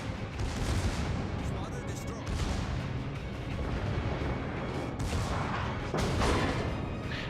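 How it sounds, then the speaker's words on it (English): Battleship Warspite's secondary guns fire shells in World of Warships, a dense, continuous barrage of booming artillery bursts that keeps the whole stretch loud, with heavier thuds near the end. "My secondary guns begin to open up towards the Koenig, lobbing some shells over the island while others hit the islands"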